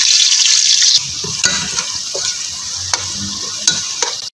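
Garlic ginger paste stirred into onions frying in oil for Lahori mutton paya, a steady sizzle with scraping stir strokes and a few sharp utensil knocks, close and continuous.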